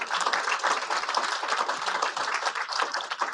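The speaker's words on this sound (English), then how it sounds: "Let's give a nice round of applause." Dense, steady applause from an audience at a university author and artist celebration, continuous clapping filling the whole stretch with no voices over it.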